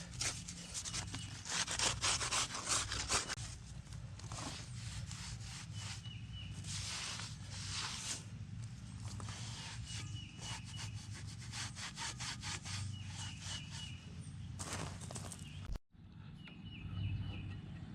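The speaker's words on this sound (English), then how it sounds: "Gonna use this super fancy John Deere OEM dirt scraper." John Deere OEM scraper working dirt off a brush grapple, a run of rhythmic, gritty scraping strokes, close but fairly quiet, ending in a brief pause followed by one more short scrape.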